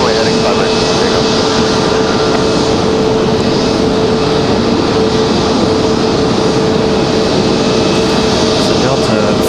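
An airliner takes off from runway 5 right at Raleigh-Durham International, its engines a loud steady roar filling the whole stretch, with a constant tone running through it and a voice talking now and then.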